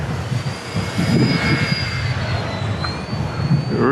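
An RC ERA C032 UH-1 Huey model helicopter flies outdoors in strong wind, a steady high motor whine with thin tonal lines over rumbling wind buffeting, close and fairly loud.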